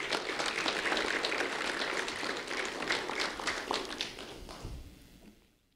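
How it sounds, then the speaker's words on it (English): Audience applause for a fourth-grade student at a community recognition event, a steady wash of clapping that holds for several seconds and then fades out. "a round of applause for Nina Avias Ortega, please."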